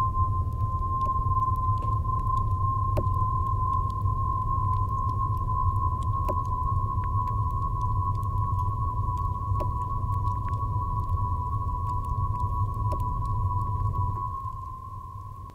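A synth holiday preset holds one steady bell-like note through a double delay, with faint clicking echo repeats arriving every few seconds over a low hum, before the tone drops away near the end.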